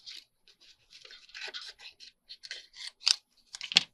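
Paper scissors snip out a layered paper butterfly in a quiet room, giving a string of short crisp cuts that come irregularly and speed up toward the end, the last few snips louder and sharper.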